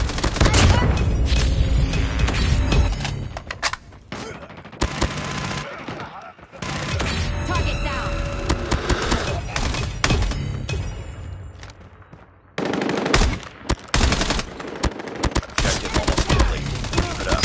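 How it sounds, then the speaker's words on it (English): Sentry gun in a video game firing dense bursts of rapid gunfire with booming impacts, loud and close, continuing in long stretches with brief pauses between volleys. "Sentry gun deployed."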